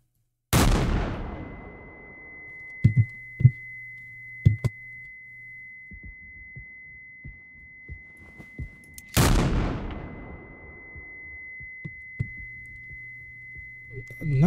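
Two loud, sharp gunshots in the horror game Mouthwashing, each a sudden broadband blast with a long ringing tail, roughly eight seconds apart, followed by a steady high ringing tone, a low hum and scattered clicks and thuds.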